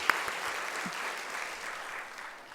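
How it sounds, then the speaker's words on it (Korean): Congregation clapping in a church service for the choir, a steady wash of applause that slowly fades toward the end. "성가대를 위해서 수고하시는 분들을 위해서 박수"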